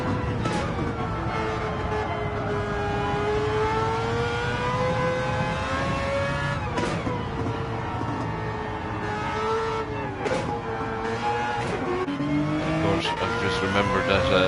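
Race car engines in a racing video game howl continuously, pitch rising and falling through gear shifts and downshifts, with a tyre squeal now and then as a Hyundai competes in a league race, while a commentator talks over it.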